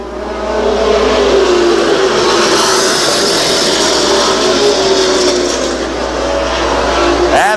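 Pro Stock cars in a Winston Racing Series race at Star Speedway, a loud, continuous roar of racing engines from a pack of cars passing steadily, with a faint voice underneath.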